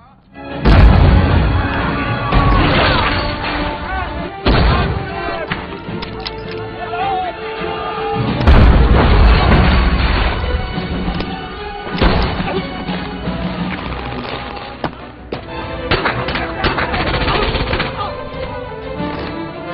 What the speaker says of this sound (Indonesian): kelompok kedua pun bersiap dengan meledakkan sebuah bom yang membuat para tentara Nazi terkejut dengan serangan